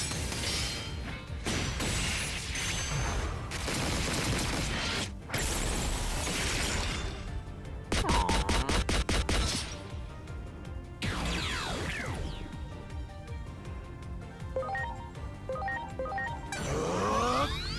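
The Outflugum attack in Digimon Story Time Stranger erupts in a dense, continuous barrage of crashing, smashing and bursting effects over roughly eighteen seconds, loud and layered, with rapid rhythmic impacts in the middle and sweeping whooshes afterward.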